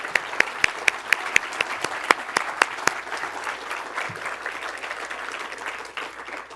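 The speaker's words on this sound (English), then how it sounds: "Please do give them a round of applause." Applause from the audience at the Dr. John W. Rice Awards Ceremony in a hotel event hall, steady crowd clapping with a few sharp individual claps standing out early, fairly distant, fading slightly toward the end.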